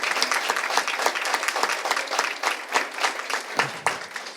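At a lecture on feminism and democracy, a roomful of listeners claps warmly and continuously, the dense patter swelling and dipping slightly, with a brief vocal sound near the end.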